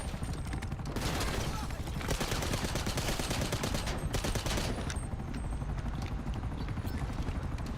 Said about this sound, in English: This time there was shooting, yes